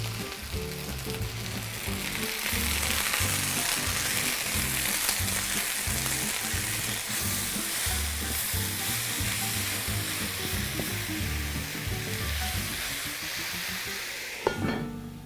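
Onions fry steadily in a covered pan with a constant loud sizzle, and a brief stirring clatter comes near the end.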